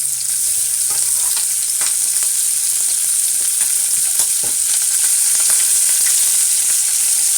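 Turkey bacon and garlic fry in a pot on a stovetop turned up fairly high, giving a loud, steady, hissing sizzle broken by occasional light stirring clicks, with no talking.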